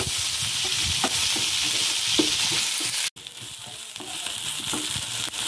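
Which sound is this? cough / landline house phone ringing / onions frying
onions frying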